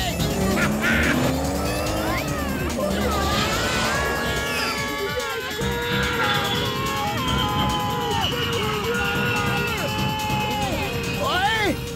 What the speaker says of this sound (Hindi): गाड़ी तो मक्खन की तरह चल रही है।